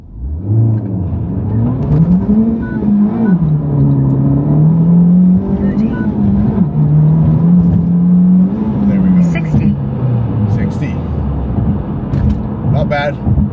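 A Honda Civic Type R FL5 with a Stage 2 tune accelerates hard through a quarter-mile drag run. The loud, close engine note climbs steadily and drops briefly at several gear shifts, with some wind and road noise underneath.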